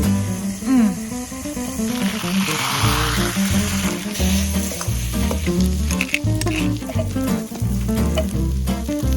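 Garlic sizzles in butter in a pan over an open fire for a wintry risotto, a loud close crackling fry with repeated stirring and scraping strokes running throughout, no talk.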